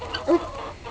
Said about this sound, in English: here come the chickens to see what's going on